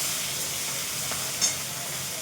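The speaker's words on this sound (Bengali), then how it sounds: "এই মাছ ভাজছি" Fish frying in a pan gives a steady, fairly loud sizzle with a brief spatter midway and no talking over it.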